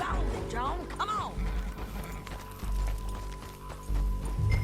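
A horse gallops in Red Dead Redemption 2, its hoofbeats thudding steadily beneath a voice talking and other game sounds, at moderate loudness throughout.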